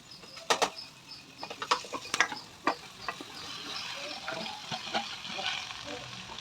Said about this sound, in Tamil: இப்போது கீரை போடணும்.